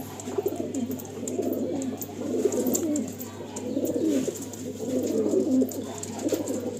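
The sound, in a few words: Andhra pigeons cooing in loft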